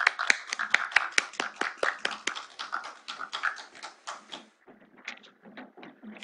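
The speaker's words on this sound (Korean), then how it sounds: "우리 큰 박수로 여러분들 환영해 주시기 바랍니다" Sparse, uneven clapping from a small audience at a seminary lecture, individual sharp hand claps that thin out and trail off near the end.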